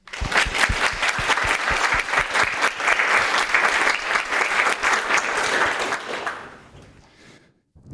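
Audience applauding at an International Women's Day games-industry talk, steady dense clapping for about six seconds that fades out at the end.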